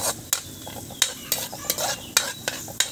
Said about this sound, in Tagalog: Hintay lang po natin mag golden brown yung bawang at saka yung luya.